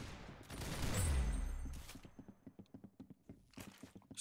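Gunfire in a Roblox shooter game: a loud burst of shots at the start, then a rapid run of short, evenly spaced cracks, with no talk.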